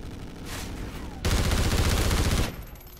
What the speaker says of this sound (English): so you hit B and it turns into an assault rifle